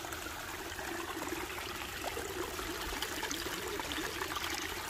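Water from a hillside stream flows steadily downhill on a trekking path up to a hilltop temple, a continuous close wash of trickling and rushing water with no voices.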